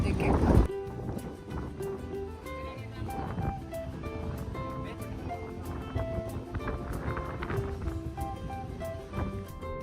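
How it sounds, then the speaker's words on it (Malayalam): Strong wind buffets a boat on a trip near Pelee Island, Canada, a steady rushing roar mixed with water noise, with a sharp gust at the start and voices talking over it throughout. "പക്ഷെ ഇപ്പോൾ മഴയില്ല, പക്ഷെ നല്ല കാറ്റുണ്ട്"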